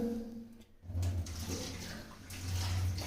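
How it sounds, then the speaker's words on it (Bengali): Rice is washed in water, a steady splashing and sloshing with a brief gap partway through, close and fairly loud with no talk. "চাল ধুয়ে রেডি হচ্ছে"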